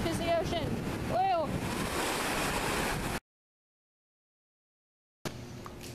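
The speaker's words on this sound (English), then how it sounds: "Here's the ocean." Ocean waves and surf on a Florida beach roar broadly with heavy wind buffeting the microphone, cut by a brief silence before resuming.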